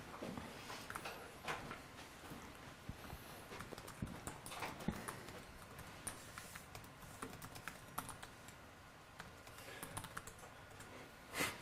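Comments are typed on a computer keyboard in quick, irregular bursts of clicking keystrokes. The key taps are close and moderately faint, with small pauses between runs and no talking.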